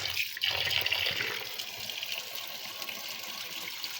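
Fish, soaked in vinegar, is washed under running tap water, a steady close gush and splash of water with faint rustling of handling, continuous throughout without talk.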